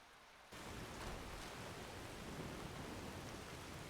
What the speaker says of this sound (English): I can hear it raining out still